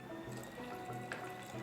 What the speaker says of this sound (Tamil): சுடு தண்ணி நம்ம ஊற்றுறோம்.